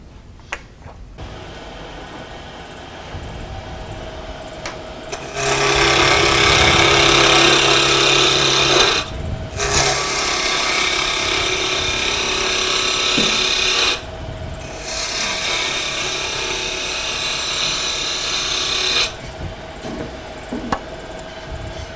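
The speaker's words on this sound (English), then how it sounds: "So I need to take off about a little bit over 1/4 inch" A wood lathe turns a miniature birdhouse roof, giving a low hum broken by three loud, rough scraping bursts of several seconds each as the tool cuts, with short pauses between them.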